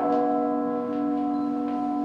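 Church bells resonate in a tower reached by about 210 steps, a sustained ringing hum with long-decaying metallic overtones, close and steady for the whole moment.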